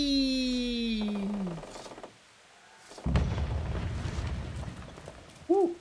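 A cannon fires in Kingdom Come: Deliverance: a sudden heavy boom breaks a quiet moment and rolls into a long rumbling tail, with fainter tonal game sounds heard earlier.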